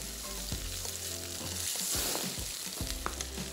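Spinach being stirred and fried in a pan, a loud hissing sizzle throughout with repeated clacks and scrapes of a spoon against the pan.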